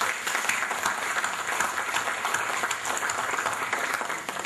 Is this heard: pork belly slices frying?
no